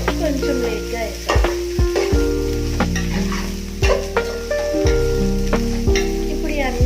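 Paneer fried rice sizzles steadily in a hot pan, broken by repeated scraping and knocking as a spatula stirs and tosses it every second or so, close and clear.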